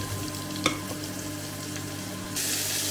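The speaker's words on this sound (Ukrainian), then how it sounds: "Цибуля смажиться, а рибка вже й зарум'янилась." Steady sizzling of fish and onion frying in oil in a hot pan, with a brief clink of a utensil partway through.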